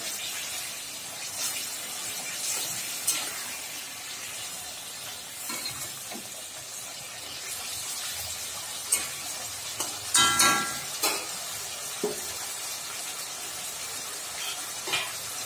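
Fish head cooking in a pan with water added for a Bengali muri ghonto, giving a steady soft sizzle and bubbling hiss with a few louder spatters and scraping stirs, no talking.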